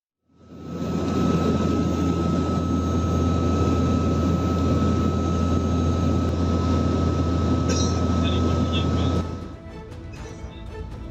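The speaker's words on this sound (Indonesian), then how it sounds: "Pesawat udara CN-235 dikerahkan guna memantau dan mencari korban dari udara." A CN-235 turboprop aircraft flies over the Bali Strait on a search for ferry sinking victims, a loud steady engine drone with a strong low hum and a constant high whine that suddenly drops in level near the end.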